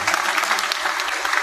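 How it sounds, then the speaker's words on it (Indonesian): Short burst of audience applause at an opening ceremony in the Riau Islands, a dense, bright patter of many hands clapping at once with no speech over it. "tuan ya, mau tepuk tangan silakan ya."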